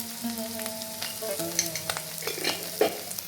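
A spiced snack filling like chop masala is mixed with salt, roasted cumin powder and a little turmeric, giving steady stirring and scraping with a soft sizzle underneath and a few sharper utensil clicks.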